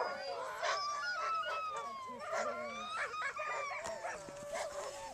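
Sled dogs at an Alaska musher camp make a constant chorus of excited barking, yipping and howling, many animals at once, fairly close and loud.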